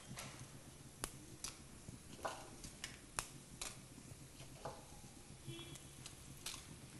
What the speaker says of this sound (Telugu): నూనె వేడొచ్చింది కదా ఇందులో టీ స్పూన్ మినపప్పు